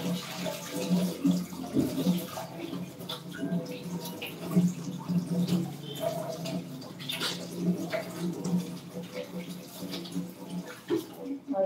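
Water runs from a tap in a kitchen while a can is rinsed and washed, a continuous splashing flow with irregular clatters and knocks of handling throughout.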